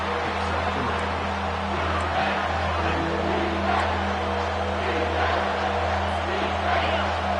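A home crowd roars at a football game during a third-down play, with a broad, sustained swell of cheering, whoops and yells mixed under a play-by-play announcer's voice.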